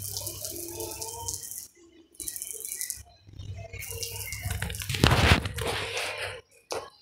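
A toy water gun with a pump and yellow button shoots bursts of water close by, with rattling and splashing in several separate spurts, one louder near the end.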